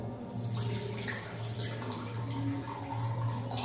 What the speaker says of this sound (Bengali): এখানে আমি আগে একটু জল নিয়ে নিলাম।